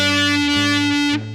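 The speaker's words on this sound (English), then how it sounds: "if I bend the string like this" On a distorted rock electric guitar, a held note is bent upward by tightening the string. It sustains loud and solo for just over a second before stopping abruptly.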